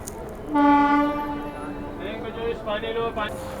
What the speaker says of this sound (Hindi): ये चला गया लोकोमोटिव जो है अपना रिवर्सल डायरेक्शन में